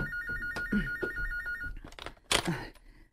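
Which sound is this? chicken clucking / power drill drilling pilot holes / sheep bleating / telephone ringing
telephone ringing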